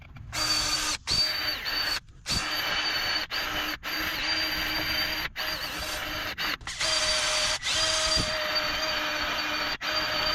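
A power drill fitted with a small bit cleans brake calipers, giving a sustained high-pitched whine that runs in long bursts separated by brief stops, loud and close with no voices.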